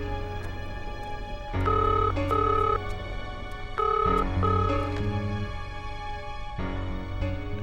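A telephone rings in a household scene of a French-dubbed drama series, with repeated tonal ring bursts in a steady pattern over a soft background.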